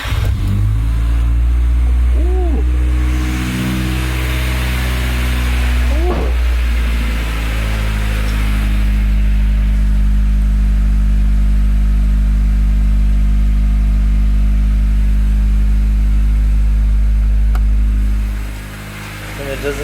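A Honda Civic EK engine with a newly fitted exhaust and no intake idles high and steady. A couple of quick revs come early, then it settles into a deep, loud, continuous hum.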